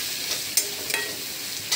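Homemade spicy pizza sauce stirred into soya chilli frying in a pan, a steady sizzle broken by a few short scraping stirs of the spoon.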